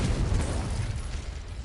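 A fire spell cast in a video game roars out as a loud, continuous burst of crackling, rumbling flame that stays dense and steady from start to finish, with no voices.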